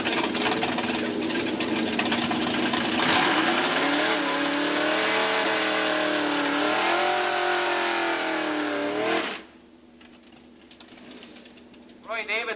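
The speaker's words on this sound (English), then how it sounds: "Vega, big block Chevy powered Vega." A loud big-block Chevy-powered Vega drag race car engine roars and revs steadily for about nine seconds, pitch rising and falling, then cuts away to a quieter background.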